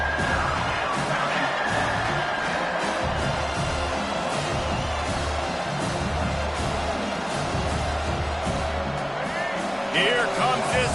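Home crowd at a college football game in the College Football 25 video game, a dense steady roar of cheering that holds loud throughout, with no talk on top.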